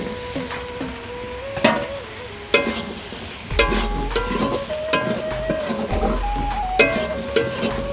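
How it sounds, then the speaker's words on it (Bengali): Soybean chunks stirred repeatedly in a kadai over high heat and sticking to the metal, with scraping clinks from the utensil, a steady frying sizzle, and a few sharp knocks along the way. "আর বেশি একটু জ্বালন দিয়ে দিয়েছি সেই জন্য কড়াতে লেগে গেছে তাই বারবার লাড়ছি"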